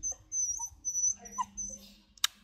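Two young Rottweiler puppies whimpering, one of them listless, with thin high-pitched whines and short yips coming in brief bursts close by, ending with a sharp click.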